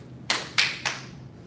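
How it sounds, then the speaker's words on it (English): Three sharp hand claps ring out in a kung fu crane-basics class, evenly spaced and close, each a crisp slap that fades quickly into a quiet room. "Clap."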